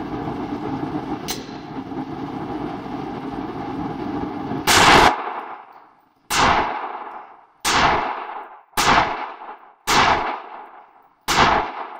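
Six loud, sharp gunshots from a Smith & Wesson M&P 9mm pistol at a shooting range, fired singly with pauses of about a second and a half, each ringing out briefly, after a stretch of steady background noise.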